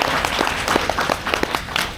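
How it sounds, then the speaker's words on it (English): A short burst of audience applause, many hands clapping together in a dense, lively patter that stays at a steady level. "Can we have a big round of applause for?"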